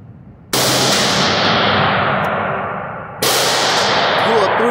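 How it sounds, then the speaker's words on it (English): Two single gunshots at an outdoor shooting range, each a sharp loud crack with a long ringing decay, spaced a few seconds apart. "I want you to shoot one shot at a time."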